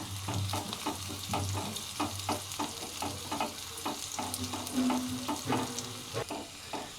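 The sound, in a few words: onions sautéing in pan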